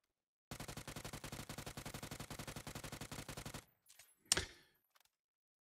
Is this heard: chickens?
no